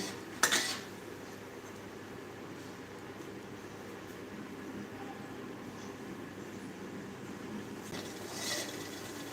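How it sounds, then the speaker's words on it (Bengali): Luchi deep-frying in a pan makes a steady, quiet sizzling hiss throughout, with a sharp metallic clink near the start and another utensil clatter near the end. "আমার লুচি ভাজা হচ্ছে"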